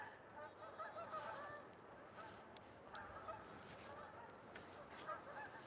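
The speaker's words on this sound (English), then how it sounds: "Wow, these geese are not playing." Geese honk faintly in the distance near a river during trout fishing, scattered calls over a steady outdoor wash of background noise with one brief sharp click.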